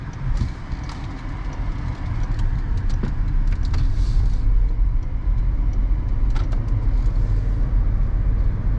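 A 2023 Toyota bZ4X Limited electric SUV on a test drive, heard from the cabin as a steady low road and tire rumble with faint light rattles and clicks, continuous and fairly loud.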